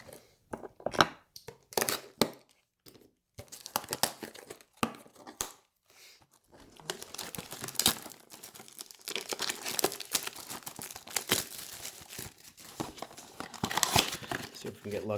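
Crinkling and tearing of foil packs from a 2022 Bowman baseball card blaster box, handled close up in short irregular bursts, with quieter stretches between them and busier rustling later.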